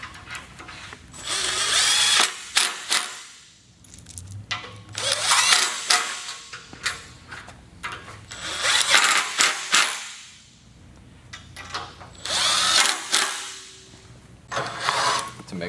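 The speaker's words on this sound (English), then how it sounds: "screwing each one in loosely before tightening down completely to ensure that you don't strip the threads" A power drill drives bolts while a bed rail is fitted to a Ryder truck rack, whirring in repeated loud bursts of a second or two separated by short pauses.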